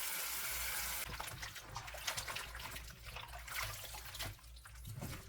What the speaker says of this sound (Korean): 1시간 절인 배추는 물을 잠길 만큼 받아 헹구어 건져주세요.